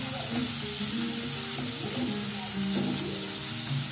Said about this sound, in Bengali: মাছটা অনেক ছিটতেছে